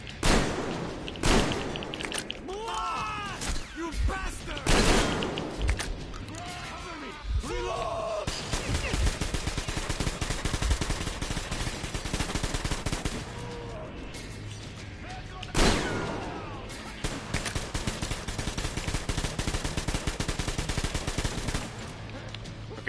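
Metro Exodus firefight with loud bursts of machine gun fire and scattered single gunshots, dense and close, broken by brief pauses, while someone talks and shouts over the shooting.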